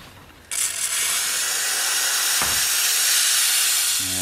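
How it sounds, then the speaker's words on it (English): A steam cleaner aimed at brake calipers from a Mitsubishi Evo 8 kicks in with a sudden loud, steady hiss that holds for several seconds before easing slightly near the end. "Got the steamer ready."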